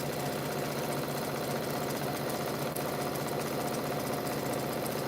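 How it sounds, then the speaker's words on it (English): A home sewing machine stitches fabric pieces for a quilt, giving a steady, continuous mechanical whir and rapid needle chatter that holds at an even level without pause. "All right, so we are sewing."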